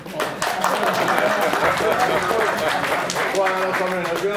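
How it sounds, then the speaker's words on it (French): A crowd at a general assembly meeting in a town hall applauds steadily, a dense wash of clapping that fills the whole stretch, with some voices mixed in. "On l'applaudit."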